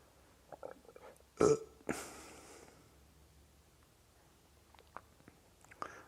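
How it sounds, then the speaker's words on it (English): A single soft, close burp comes from a man at a quiet meditation retreat. It is followed by faint mouth and breath sounds in a hushed room. "I'm relaxed enough to let out a little burp."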